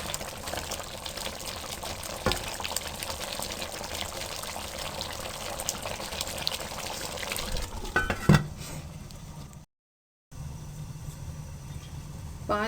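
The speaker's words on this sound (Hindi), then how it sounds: "चम्मच अच्छी तरह से चला दें ताकि पैंदे के साथ चिपक ना जाए।" A spoon stirring yogurt-based chicken leg curry in a pot on a medium-flame stove, giving soft scraping and liquid churning, faint and continuous, with a brief clatter near the end and a short gap of silence.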